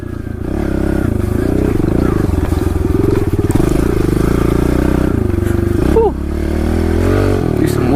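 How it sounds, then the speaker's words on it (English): A Kawasaki KLX 110L pit bike rides through woods with a loud, close single-cylinder engine drone, rising and falling revs, and a brief throttle dip near the end. "just riding the KLX again"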